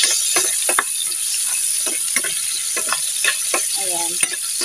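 Onion sizzling in hot oil in a pan while being stirred, a steady bright frying hiss with scattered scraping clinks of a utensil against the pan.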